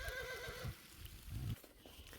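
A horse on a trail ride lets out a loud, close whinny that tails off, followed by a couple of lower snorting breaths and faint hoof shuffling.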